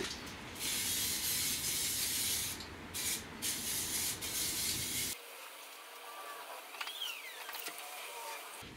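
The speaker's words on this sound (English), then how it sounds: "I've sprayed everything with red oxide now." Red oxide primer sprayed from an aerosol can inside a van being converted into a camper, several close, loud hissing bursts of a few seconds each, followed by quieter handling noises.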